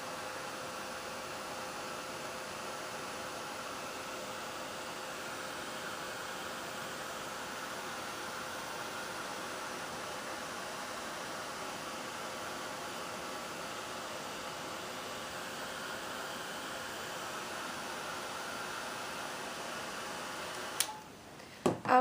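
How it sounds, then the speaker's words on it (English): A heat tool blowing over pigment ink on paper, a steady, even whooshing hum running unbroken at moderate level, ending with a couple of brief clicks as it shuts off. "So we're just going to hit it with our heat tool real quick"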